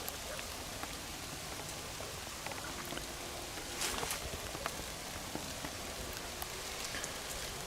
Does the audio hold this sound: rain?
yes